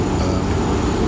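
Inside a train standing at Salisbury Station before departure, a steady, loud, broadband rumble of carriage and engine noise fills the space evenly, with no talk.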